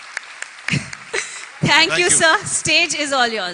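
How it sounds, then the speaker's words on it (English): Brief applause from a conference audience at a Rotary event, heard as scattered clapping that is soon covered by someone speaking over a microphone. "Can you have a big round of applause yet again?"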